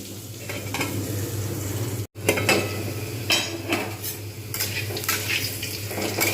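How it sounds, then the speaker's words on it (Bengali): Potatoes fry in hot oil in a pan with a loud, continuous sizzle, while a utensil scrapes and stirs against the metal in repeated clatters, pausing briefly once. "আলুগুলো কিন্তু আমি একটু চটিস করে ভালোভাবে ভেজে নেবো"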